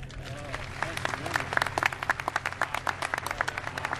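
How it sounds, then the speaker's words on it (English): Audience applause honoring Senator John Glenn and Scott Carpenter at the Kennedy Space Center Visitor Complex, with claps building into a steady round of mid-level clapping over a low hum and some background voices. "one more round of applause, please, for Senator John Glenn and Scott Carpenter."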